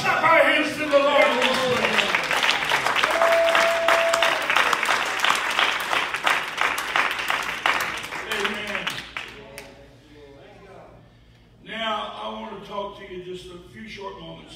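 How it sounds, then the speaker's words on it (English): Church congregation clapping hands together in praise during a gospel service, a dense, loud, sustained patter for about ten seconds that then fades, followed by someone speaking. "Let's clap our hands to the Lord."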